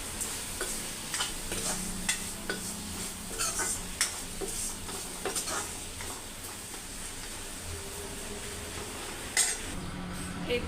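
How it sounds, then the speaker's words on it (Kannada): A spoon scrapes and clinks against a pot while spiced rice and lentils with tempering are mixed, faint sizzling beneath irregular metallic taps and stirring strokes. "ಎಲ್ಲನೂ ಚೆನ್ನಾಗಿ ಮಿಕ್ಸ್ ಮಾಡ್ತೀನಿ."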